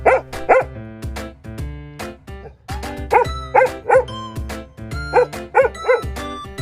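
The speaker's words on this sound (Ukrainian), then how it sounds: "Собака гавкає. Гав гав." A dog barks in short bursts, pairs and triplets of sharp woofs separated by pauses, fairly close and clear, with music playing underneath.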